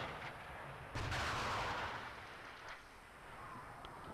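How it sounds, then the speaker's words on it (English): Infantry and missile teams fire in the Steel Beasts Pro tank simulation game, producing a muffled, distant boom followed by a rolling rumble and a few fainter later shots over a steady low background. "So they're all firing."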